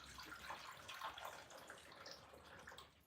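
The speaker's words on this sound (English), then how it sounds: "I can't fill it up all the way because the sink is full of water already." Water runs from a tap into a kitchen sink that already holds water, a faint, steady splashing and trickle with small drips, heard close and without talk.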